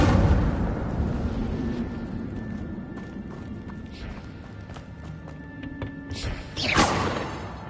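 An Incendio fire spell cast in Hogwarts Legacy, a loud rushing, rumbling blast with crackling impacts that holds steady for several seconds, swells again briefly near the end and has a faint tone running underneath.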